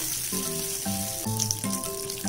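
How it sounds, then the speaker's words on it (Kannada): About a quarter cup of oil heats in a pan while keema curry is being prepared, giving a steady, fairly loud sizzle with a few scraping touches. "ಇದಕ್ಕೆ ಒಂದು 1/4 ಕಪ್ ಅಷ್ಟು ಎಣ್ಣೆ ಹಾಕೋಬೇಕು"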